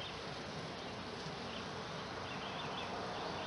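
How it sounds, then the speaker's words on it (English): Bees buzzing in a beehive, a dense continuous hum of many insects, close and steady, with no voices. "the bees are starting to poke their heads out above the frames"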